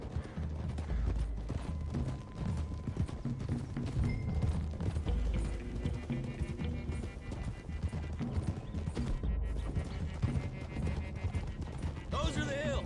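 Horses gallop in the Red Dead Redemption 2 video game, with dense clip-clop hoofbeats and neighs running steadily throughout, under and alongside game sounds and some speech.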